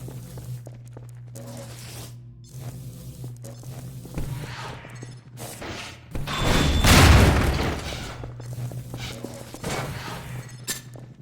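Gunfire from the video game Half-Life 2, a dense burst of booming shots peaking midway through, set among softer mechanical clicks and footsteps in the game's soundscape.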